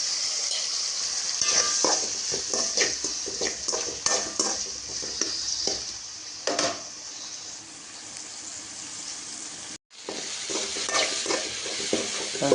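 Tomatoes and onions frying in a pan for a rock fish curry, a steady close sizzle broken by repeated spoon scrapes and clinks against the metal, with a brief drop near the end before the frying resumes.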